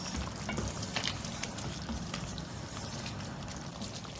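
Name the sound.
bhuna frying of mutton in oil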